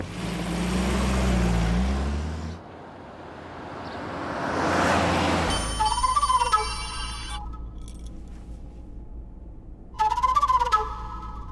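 A muffled engine hum gives way to an electronic phone ringtone that plays a melodic phrase, pauses, then rings again, fairly close and clear.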